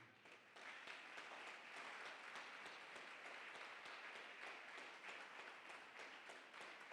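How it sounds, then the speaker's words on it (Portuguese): A congregation claps for church workers at a Portuguese-language communion service, a steady wash of applause with individual hand claps audible in the mix. It sounds distant and quiet, and carries on for the whole span. "Aplauda ao Senhor para esses irmãos"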